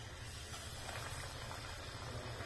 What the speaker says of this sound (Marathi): मध्यम गॅसवर तळून घ्यायचं